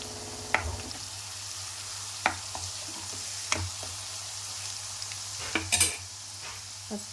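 Chole masala sizzles steadily as it fries with turmeric in a pan, with a spoon scraping and clacking against the metal in sharp, irregular strokes over the constant hiss.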